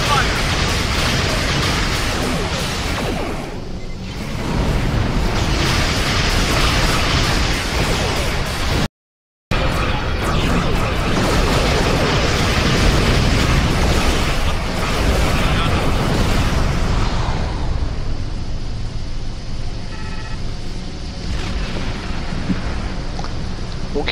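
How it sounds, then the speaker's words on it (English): Starship weapons fire and explosions in Star Trek Online, loud dense bursts and rumbling blasts with a sharp cut partway through, fading into a quieter hum near the end. "Computer, arm all weapons and fire!"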